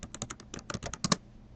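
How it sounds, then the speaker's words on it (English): Rapid typing on a computer keyboard, a quick run of about a dozen close, crisp key clicks in an uneven rhythm, ending with a couple of louder strokes. "and I can begin typing."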